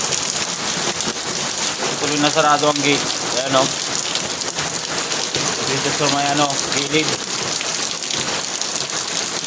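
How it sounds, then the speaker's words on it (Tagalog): Heavy night rain pours steadily and loudly, a dense continuous hiss drowning the surroundings, while a person speaks briefly over it in two short stretches. "Malakas talaga ng ulan."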